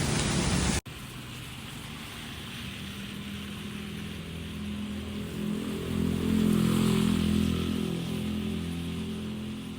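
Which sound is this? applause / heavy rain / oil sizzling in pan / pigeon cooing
heavy rain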